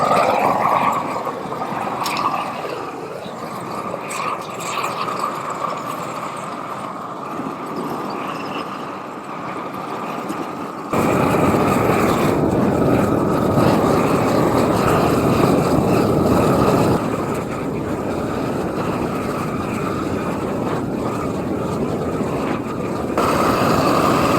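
A propane torch burning for shou sugi ban wood charring roars steadily throughout, a loud broadband rush that grows stronger and denser partway through as the flame opens up.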